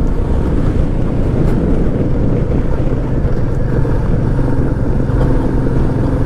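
A motorbike rides along a mountain road in Meghalaya, with a steady low engine rumble heavily buffeted by loud, continuous wind noise on the microphone, close and unbroken for several seconds with no speech.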